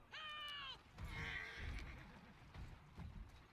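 A horse whinnies loudly in Assassin's Creed Syndicate, a rising-and-falling neigh followed by snorting, hoof clatter and street noise in the Victorian London game world.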